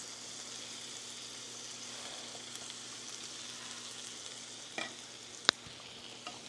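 Cabbage stir-frying in a pan gives a soft continuous sizzle with a few scraping stir sounds and one sharp clink near the end.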